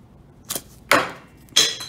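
A 3D printed PLA mold, holding cast Dragon Skin 30 silicone and sealed with modeling clay, pops apart as it is pulled open: three sharp, loud cracks spaced about half a second apart, with no talking.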